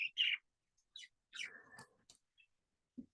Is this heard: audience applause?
no